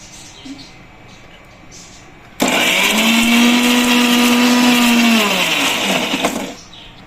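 A mixer grinder grinding ginger into paste starts abruptly and whirs loudly and steadily for about four seconds, its motor pitch sliding down slightly before it cuts off.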